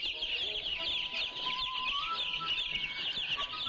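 Hens on a chicken ranch clucking steadily, a dense, continuous flock chatter that runs close and fairly loud throughout, with no speech.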